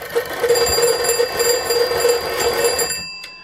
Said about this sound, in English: if I rotate it, you can hear the bell ringing